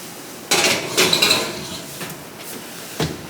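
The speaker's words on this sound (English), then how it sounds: "So let's pop this in the oven." A metal pan holding blueberry cake clatters into the oven, with a bump and scrape on the rack, a slide and clunk of the oven door, and a final soft knock, all close with no talk.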